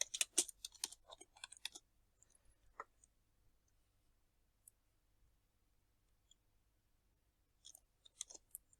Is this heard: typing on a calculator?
yes